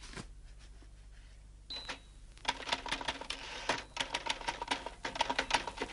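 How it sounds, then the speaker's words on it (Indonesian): A typewriter clatters rapidly with rhythmic irregular key strikes after a quiet start and a brief bell-like ding, sounding close and dry with no talking. "She's typing."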